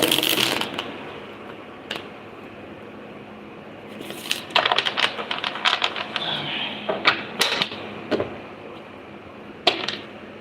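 Tarot cards are shuffled up close in crisp riffling bursts and quick flicks, separated by brief pauses and a few sharper taps, with a faint steady hiss behind.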